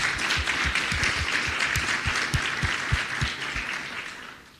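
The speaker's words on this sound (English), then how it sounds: "A round of applause." Moderate applause from an audience at an IMF high-level panel discussion, a brief spell of clapping with a few distinct claps standing out, fading toward the end.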